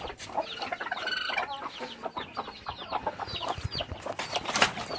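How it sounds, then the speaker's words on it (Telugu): Several brooding hens, six set on eggs, cluck and chatter close by in a busy overlapping series of short calls, with occasional louder squawks. "మొత్తం 6 కోళ్ళు పొదిగి వేసినాం."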